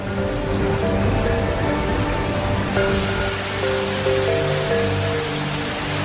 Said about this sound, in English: A torrential downpour, which would one day fuel the building's water reclamation system